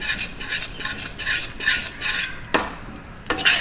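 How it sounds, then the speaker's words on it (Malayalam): Thick jaggery halwa mixture stirred briskly in a pan over a raised flame, a rhythmic scraping and rubbing of the spoon against the pan with a couple of sharper knocks, close and clear, no voices. "ഇത് കട്ട പിടിക്കാതെ നന്നായിട്ടൊന്ന് മിക്സ് ചെയ്ത് കൊടുക്കണം"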